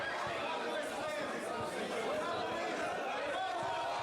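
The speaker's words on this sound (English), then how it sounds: "we're out in the crowd now" Dense crowd chatter fills a wrestling show venue at Almada WrestleFest, a steady murmur of many overlapping voices at moderate level with no single speaker standing out.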